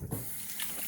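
Tap water runs steadily into a sink during handwashing in a home kitchen, a soft continuous hiss heard alone for under a second.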